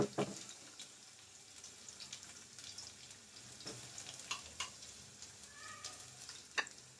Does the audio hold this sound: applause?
no